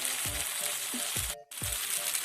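Masala with turmeric and chili powder frying in a pan for a crab roast, a close, soft sizzle broken by a few low stirring thumps and one short silent gap.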